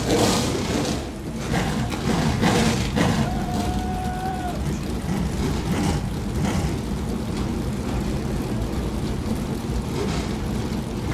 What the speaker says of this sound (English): Listen to the rumble of 600 horsepower times 20 race cars come to life here at Carteret County Speedway.